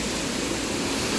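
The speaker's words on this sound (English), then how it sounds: "we are at the Taman Sari Waterfall" Taman Sari waterfall in Bali roars as a steady, dense wash of falling water, loud and unbroken, with no voices over it.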